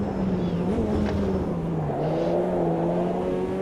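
Group C race car engine in the Automobilista 2 racing game, a sustained engine drone whose pitch dips and climbs slightly as revs shift, steady and fairly loud throughout.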